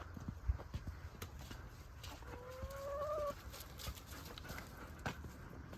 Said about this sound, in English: And then we come up to the egg layers. Who have finally started laying again.